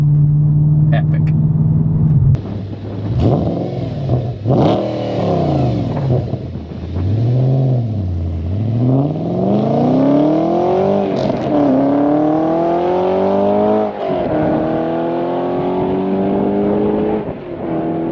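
A supercharged Audi RS4 with a manual gearbox pulls hard on the road, its engine note rising through revs, dropping at shifts and climbing again, loud and close, with someone talking over it.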